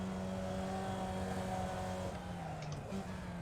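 Single-seater race car engine in the iRacing sim at high speed, a steady loud drone with a slight pitch drop partway through.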